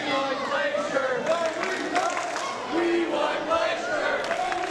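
A wrestling crowd at a CCW show cheers and chants in a loud, continuous roar, with a commentator talking over it.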